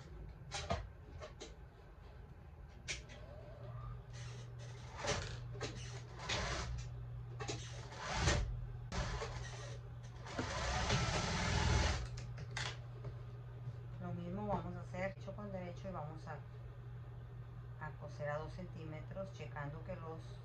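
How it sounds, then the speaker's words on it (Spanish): A sewing machine runs in bursts, stitching a 2 cm seam allowance on a balloon dress, with a steady motor hum beneath quick mechanical clatter and occasional voices in the background. "vamos a poner un alfiler y vamos a coser los 2 centímetros que fue lo que yo dejé de costura"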